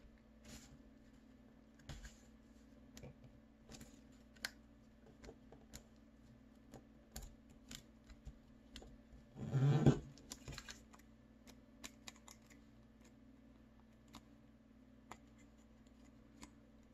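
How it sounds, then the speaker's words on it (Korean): Paper being folded and creased by hand for an origami green onion, giving faint, sparse crackles and taps in a quiet room, with one louder rustle partway through. "여기에 맞춰서 접었다가 펴주세요."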